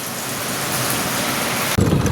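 Steady hiss of rain falling, even and continuous, with a sudden louder, heavier burst near the end.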